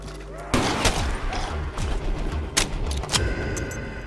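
Gunfire at zombies in Black Ops 3 on the Nacht Der Untoten map: bursts of game gunshots with sharp cracks and thuds over a continuous low game background, several distinct shots spread across the clip.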